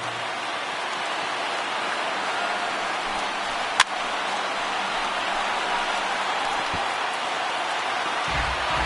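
Around 23,000 fans at a Milwaukee Brewers at Cincinnati Reds baseball game fill the stadium with a broad, steady roar of cheering, one sharp clap or crack cutting through partway, and no voices rise clearly above the wash.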